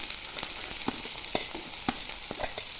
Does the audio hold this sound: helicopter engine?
no